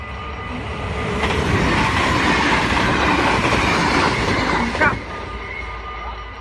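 A train passing close by, a loud, steady rumble with rhythmic clickety-clack of wheels over rail joints and a brief screech near the end, with a voice faintly in the background.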